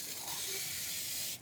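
Cooking spray hissing steadily from a can into a baking pan for a layer bar recipe, a close, continuous aerosol spray that holds for over a second and cuts off abruptly, with no talking.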